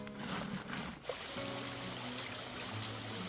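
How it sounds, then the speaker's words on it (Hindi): Water trickling out between rocks at a mountain spring source in a forest, a steady close gurgle with a few brief knocks near the start. "यहाँ ऐसी चट्टानों के बीच से निकल रहा है पानी, बिल्कुल साफ और स्वच्छ"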